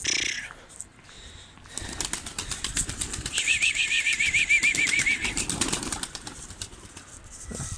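A tame turtle dove being handled among pigeons, with a brief burst of wing flapping, then a run of soft rhythmic calling close by over rustling and handling noise.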